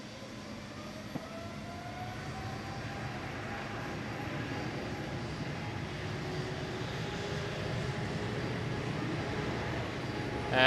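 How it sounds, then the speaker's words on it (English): A KLM Boeing 777-300 jet at Schiphol sits on the runway with a steady, distant engine roar that builds slightly toward the end, heard alone without talking. "There's a KLM 777-300 on the runway, ready"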